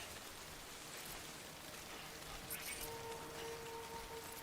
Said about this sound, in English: It's the rain that makes you old.